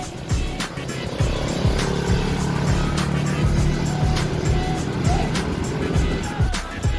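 Traffic on a highway heard from a bicycle, a steady roar of engines and tyres with vehicles rumbling past close by and sharp clicks and knocks throughout, a voice speaking briefly.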